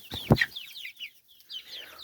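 Chickens on a small poultry farm give short, close clucks and one brief louder squawk, followed by softer scattered calls.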